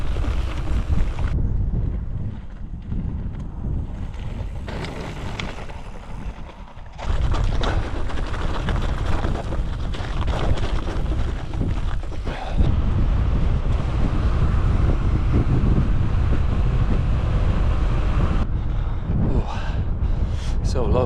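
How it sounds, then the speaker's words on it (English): Heavy wind buffets the microphone on a gravel bike ride through a cold forest, a loud roaring rush that surges and drops in gusts throughout. "Although it's cold and quite windy."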